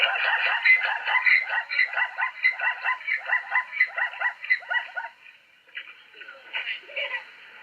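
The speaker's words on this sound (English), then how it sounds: "Listen to a zebra." A zebra's call: a rapid series of nasal, barking yips repeating rhythmically for several seconds, then softer, scattered calls.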